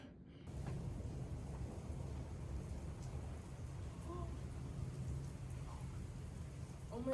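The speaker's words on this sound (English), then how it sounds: "And it's raining." Rain falling outside a home, a soft, steady hiss of rainfall with faint drips, heard quietly and continuously throughout.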